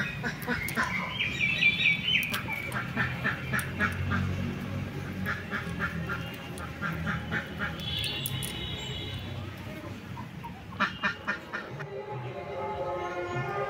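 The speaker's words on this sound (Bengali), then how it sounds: "হাঁস এগুলো এসছে খাবে" Ducks, including a white one, quacking in short bursts as they come to feed at a rural riverside home, the calls close and scattered among background rustling and faint voices.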